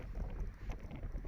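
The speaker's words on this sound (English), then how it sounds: "Oh, the wind's terrible today." Strong wind buffets a microphone outdoors during a metal detecting dig, a loud continuous low rumble with gusty swells.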